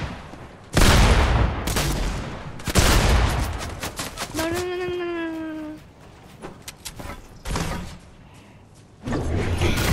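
Booming shotgun blasts in a video game, several loud shots spaced apart over game noise, with a rising tonal whine partway through.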